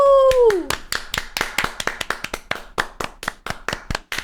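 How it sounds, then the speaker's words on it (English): A couple of people clap steadily for several seconds, sharp close handclaps in an uneven rhythm, following a brief falling whistle-like tone at the start. "Just 5 minutes of us just sitting here clapping."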